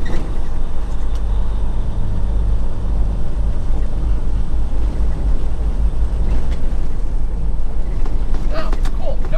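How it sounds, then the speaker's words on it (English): A heavy truck towing a trailer engine-brakes in 8th gear on a downhill road, a steady low droning rumble with continuous road and wind noise throughout, loud and close from inside the cab. "Our engine braked in 8th gear, holding us nicely about 25 miles an hour."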